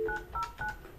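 A telephone keypad sends three quick DTMF dialing tones in an even rhythm, close and clear above a low background hum, with no talking.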